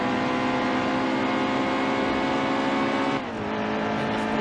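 Race car engine held at full throttle in NASCAR Heat 2 on the Charlotte Roval, a loud, steady high-revving drone with a brief dip and gear change near the end.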